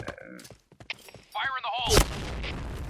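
A grenade blast in the shooter Point Blank bursts out as one loud broadband boom with a long rumbling tail, preceded by game sounds and a brief voice.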